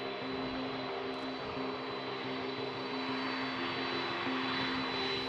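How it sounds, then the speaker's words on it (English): Steady jet aircraft engine drone from Air Force One on its landing approach, a continuous even whine and rumble at moderate distance with a faint high tone running throughout. "Before Air Force One touches down"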